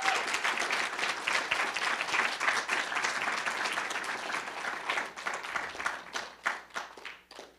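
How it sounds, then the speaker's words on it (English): Audience applause at a literary journal launch event, sustained dense clapping from a room of people that thins into scattered individual claps near the end. "Let's give them all a round of applause."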